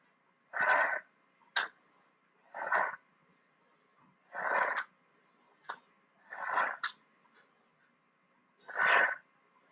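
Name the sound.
forceful breathing out during a HIIT exercise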